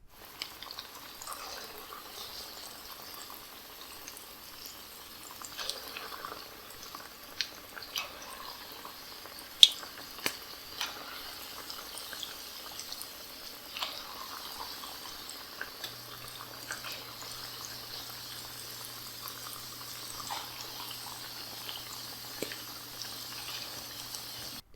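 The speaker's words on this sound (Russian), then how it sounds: "выдавливаем тесто прямо в горячее масло, нарезая его на чурросы размером 3-4 см" Churro dough sizzles and bubbles in hot oil, a faint, steady crackle with scattered sharp pops and spits throughout, no voices.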